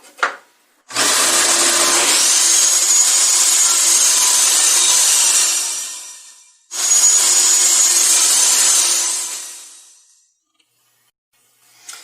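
A table saw trims the edges of a 2x4, heard as two loud, sustained cuts, each with a high whine that fades as the blade spins down between passes.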